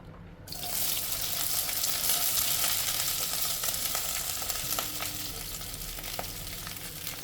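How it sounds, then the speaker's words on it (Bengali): Cut okra drops into a karahi of hot mustard oil over a high flame, bursting into a loud sizzle that holds steady and close, with occasional clicks of a spoon stirring. "কড়াটা একটু গরম হলে এক টেবিল চামচ সর্ষের তেল দিয়ে তেলটা গরম করে নিয়ে কেটে রাখা ঢ্যাঁড়সগুলো দিয়ে দেবো"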